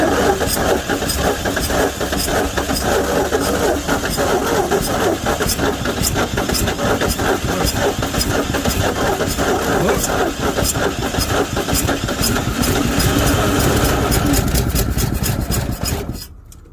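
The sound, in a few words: 1961 Chevy Biscayne engine cranking and trying to start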